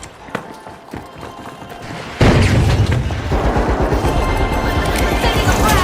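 A thrown frag grenade detonates in a video game with one sudden loud blast after a few quiet clicks, followed by a sustained rumbling roar and scattered debris clatter.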